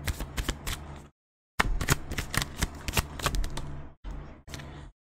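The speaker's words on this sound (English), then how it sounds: "Get another card here." Tarot cards are shuffled and drawn in quick, crisp riffling bursts, close and clear, with short silent pauses between the handfuls.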